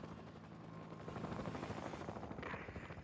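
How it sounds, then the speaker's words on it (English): A military helicopter in the Xbox 360 game Battlefield: Bad Company drones with steady rotor noise through the whole stretch, blended with bursts of distant game gunfire, and no one speaks. "Hey, look! That's our chopper!"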